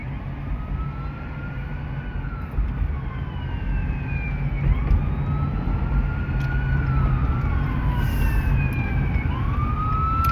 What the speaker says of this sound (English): there's a fire truck and then an ambulance behind me